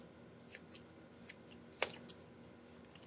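Tarot cards being shuffled by hand, a soft papery riffle with a few sharper snaps and slaps, close and quiet with no talking.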